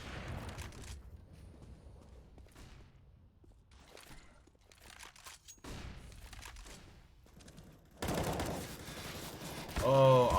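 Bursts of AK rifle spray fire in Counter-Strike, a series of sharp rapid volleys with gaps between them, ending in a louder, denser stretch of gunfire and game noise.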